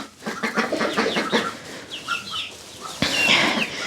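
Several chickens cluck and squawk close by inside a coop, a busy overlapping chatter with one sharper cry near the end.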